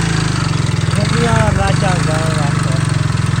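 A motorcycle engine idles steadily at close range with a loud, even low rumble throughout, briefly rising as the throttle is blipped, with voices talking over it.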